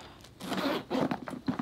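The zipper of a Senreve Mini handbag is pulled open, a close, quick series of rasping zip strokes in several short bursts, heard alone without talk.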